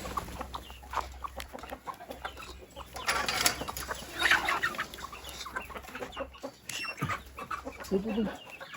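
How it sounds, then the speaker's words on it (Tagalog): Several chickens clucking and squawking close by at feeding time, with scattered bursts of activity and faint background noise throughout. "pakainin natin yung mga manok"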